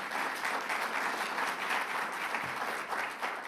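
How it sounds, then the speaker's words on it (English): Sustained applause from an audience at a Climate Week announcement by a New York governor, dense and even clapping filling the whole stretch at a steady level with no speech over it. "So let's give him a round of applause."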